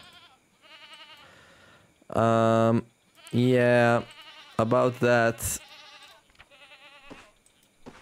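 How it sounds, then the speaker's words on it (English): A male goat in the Card Survival video game bleats in several loud, wavering calls, interspersed with quieter game sounds and someone talking between the bleats. "Oh, there's another male goat."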